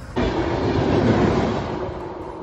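A train pulls into Nanded railway station with a loud, steady rumble of wheels and carriages that begins abruptly and holds throughout, with no voices.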